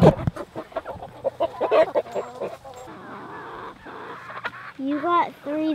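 A chicken clucks in short, repeated bursts near a dog in a farmyard during chores, the clucks close and clear, with people talking over and between them.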